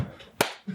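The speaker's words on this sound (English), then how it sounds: "Another clap." A single sharp hand clap rings out, short and close, with a faint second clap starting right at the end.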